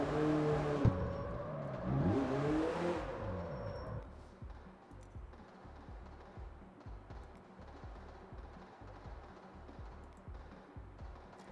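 An engine in the driving game CarX Street revs up in a rising and falling whine, then drops to a steady, fainter idle-like rumble; no talk.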